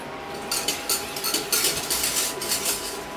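Metal saucepan with water leaking from its handle being handled in a kitchen during a pistachio-raspberry financier baking session, with light clanks and scrapes of pan and utensils, steady and close with no talking.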